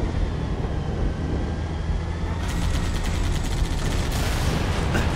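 Battle noise in Halo Reach with a steady low rumble of vehicles and weapons, and sharp rapid crackling shots cutting in during the second half and growing busier toward the end, no talk.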